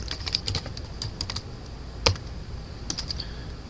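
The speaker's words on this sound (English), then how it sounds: "we're going to type reply content" Rapid clicking keystrokes on a computer keyboard, steady and close, with one sharper clack midway and no voices.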